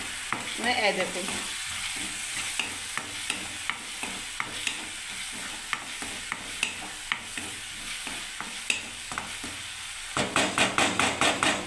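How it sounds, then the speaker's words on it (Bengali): Spiced potato gravy sizzles in a pan as a spoon scrapes and stirs it in regular taps, close and steady, ending with a quicker run of clinks; a voice speaks briefly. "আমি এটা কষতে থাকবে গ্রেভিটাকে"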